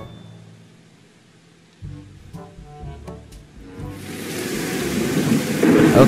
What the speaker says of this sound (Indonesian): Waduh, hujan deras.